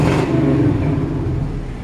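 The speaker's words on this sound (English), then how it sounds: "It's got a great sounding exhaust." Exhaust from a 1955 Chevy 3100 pickup truck, heard as a short, loud, throaty rev that swells and then eases back toward idle, close by and with no voices.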